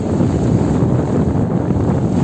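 Loud, constant wind rushes and buffets against the microphone on a heeling sailboat crossing the sea to Corsica, with a low rumbling roar and no letup.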